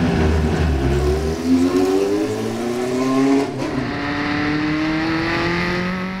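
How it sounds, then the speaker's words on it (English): A Williams FW08 Formula 1 car with its Cosworth engine idles and blips at Silverstone, giving a steady, buzzy burble with a brief rise in revs before settling back, heard nearby with no talk. "we can hear the FW08 purring away in the background, and that's a very familiar noise for historic race fans of a Cosworth DFE"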